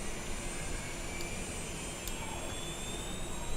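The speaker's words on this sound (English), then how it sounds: "So APU is spooling now, and we look like we have APU power available." An aircraft APU spooling up in Microsoft Flight Simulator 2020 on the ground at KTVC, a steady turbine whine over broad roar with a slowly rising tone, loud and continuous with no talk.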